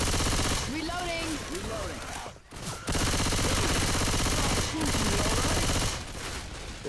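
Loud sustained automatic gunfire in a video game, rapid shots running nearly the whole time with a short break around the middle, and faint voices mixed in at the start.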